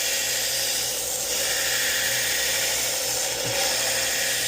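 A belt grinder sharpens industrial shears, a continuous abrasive whir and rasp of the belt against steel that holds steady and close throughout, with no voices.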